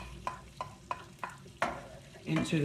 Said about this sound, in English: so we got everything sizzling